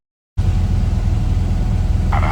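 Auto rickshaw ride during heavy rain, with a steady low engine rumble and road noise running continuously after a sudden start, loud and close, with no talk.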